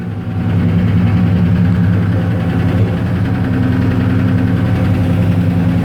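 An old Ford F-150 farm truck, started for the first time in 18 years with collapsed lifters, idles steadily and loudly up close, a continuous low rumble with no voices.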